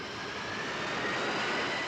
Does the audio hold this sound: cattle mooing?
no